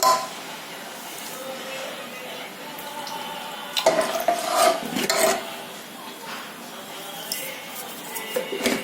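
A spoon stirs ghee rice in a pot with soft, wet scraping and rubbing sounds. The sound is intermittent and close, with a few sharper clinks in the middle.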